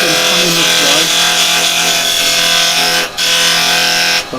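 A woodturning gouge cuts a piece of pine spinning on a lathe, giving a loud, steady scraping and rasping that runs nearly unbroken, with a short dip near the end as the tool lifts off.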